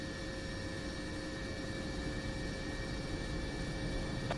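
Steady jet engine whine and rumble from an aircraft taxiing in the DCS flight simulator game, a constant drone with a few high tonal lines, fairly loud and unbroken, with no talk.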